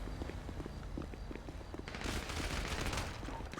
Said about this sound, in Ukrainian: Постріли, постріли! Вогонь, вогонь, вогонь!